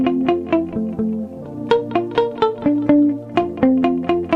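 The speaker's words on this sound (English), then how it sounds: "A typical mbira guitar will sound like this." Electric guitar played in an mbira style, plucking interlocking notes through a chord progression in F with a steady rhythmic pulse and effects processing.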